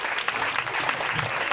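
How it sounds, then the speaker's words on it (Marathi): Guests at a welcoming gathering are greeted with dense, continuous clapping from a crowd, a steady burst of many hands heard at moderate loudness without pause. "जोरात टाळ्या वाजून त्यांचं स्वागत करावं."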